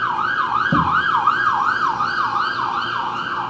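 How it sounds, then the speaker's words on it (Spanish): An emergency vehicle siren wails steadily outdoors, its rising and falling tone repeating about every half second, loud and continuous with faint road noise beneath it. "yo hacía tiempo que no escuchaba tantas sirenas como las he escuchado hoy"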